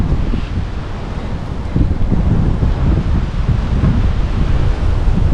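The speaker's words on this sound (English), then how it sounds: "There's gusts of 35 to 40 miles an hour again" Strong wind gusting at 35 to 40 mph during an early November storm, a continuous loud roar with heavy low buffeting that swells partway through and stays intense.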